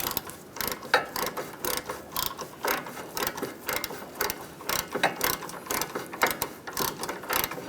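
Wrench ratcheting and clicking on a heated sway bar link nut on a 2002-2006 Honda CR-V during front suspension work, a steady run of close, quick metallic clicks and mechanical rattles alone for several seconds.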